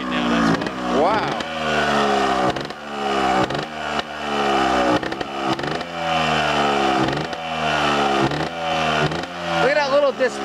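A Yamaha FZR motorcycle idles on full choke in light snow, its engine loud and close with a steady buzzing drone and uneven revs, while people talk over it.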